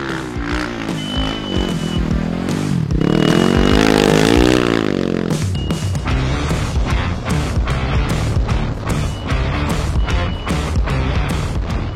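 A rally motorcycle at the Rallye du Maroc powers through a sandy, stony dry riverbed, its engine loud and close, climbing to a strained rev peak before settling into a hard, rough drone with clattering and scraping.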